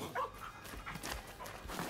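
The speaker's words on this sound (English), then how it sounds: "Dog!" A dog in the video game Rise of the Ronin gives a few faint, short yips and barks, distant and soft against a low background hum.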